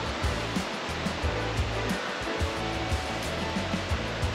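Water rushing and splashing at a resort pool with a water slide, a dense steady wash with faint rhythmic surges throughout and no voices.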